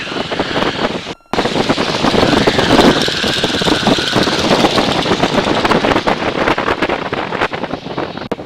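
A 1945 T-6 Texan warbird's radial engine drones loud and steady while the plane taxis, with a rough, pulsing roar and wind buffeting. There is a brief dropout early on, and the engine noise continues unbroken for the rest.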